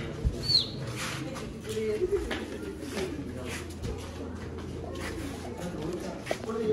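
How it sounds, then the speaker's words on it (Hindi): Soft pigeon cooing rumbles low beneath a busy outdoor background, with a brief bird chirp near the start. "देखो कबूतर"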